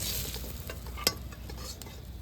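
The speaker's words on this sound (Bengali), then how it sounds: "বেগুন ভালো করে ভেজে নিয়েছি" Eggplant fries in hot oil with a close, steady sizzle and crackle. One sharp pop or clink cuts through partway.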